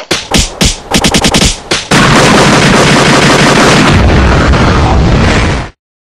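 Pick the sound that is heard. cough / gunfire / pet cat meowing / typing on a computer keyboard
gunfire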